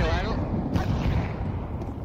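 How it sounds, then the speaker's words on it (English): A grenade goes off in a team first-person shooter match as a deep, rumbling boom that swells and fades over a couple of seconds, with players talking over it. "Grenade out."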